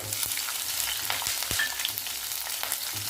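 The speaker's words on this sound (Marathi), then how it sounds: "आता हे छान भाजून घेऊया शेंगदाण्याने मिरची अर्धवट भाजले ना" Peanuts and chopped green chillies roast in a pan for sabudana usal, giving a steady dry sizzle with scattered sharp clicks and scrapes as they are stirred, close and moderately loud.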